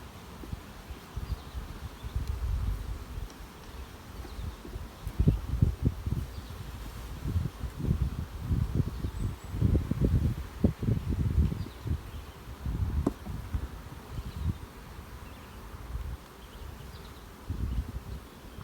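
Honey bees in an open nuc hive hum steadily while combs are being separated and spread out, a continuous close buzz with rustling and occasional knocks of frames.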